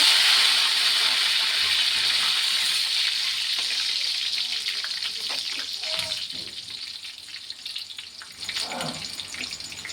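Curry leaves hitting hot oil for a tempering, a loud continuous hiss and sizzle that slowly settles, with a few clinks and faint voices in the background.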